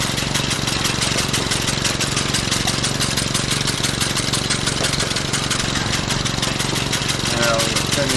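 On a farm, a tractor engine runs steadily, with a loud, rapid mechanical chugging that stays constant and close throughout and no break in the rhythm.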